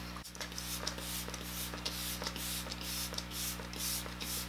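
Several short hissing sprays of makeup setting spray puff out in a quick rhythm, close and fairly quiet, over a steady low hum.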